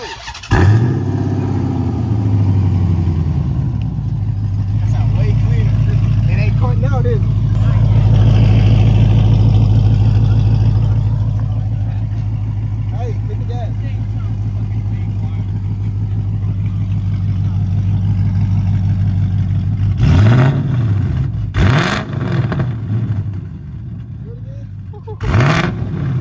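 Chrysler 300C engine fitted with long tube headers, loud and close: a long sustained rev with a deep droning exhaust, easing off, then sharp blips of revving near the end.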